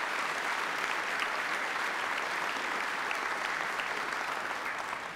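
An awards gala audience applauds, a dense, even wash of clapping from a large crowd that holds steady for several seconds and fades slightly at the end, with no voices on top.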